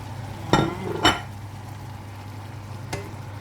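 Shrimp tossed into a pan of sautéing eggplant gives two sharp clatters with a brief sizzle, followed by a faint clink, nearby and without speech.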